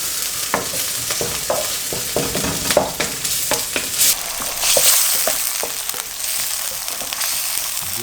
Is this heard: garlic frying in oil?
yes